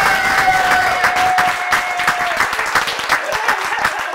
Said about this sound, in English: Everybody give a round of applause to Tony.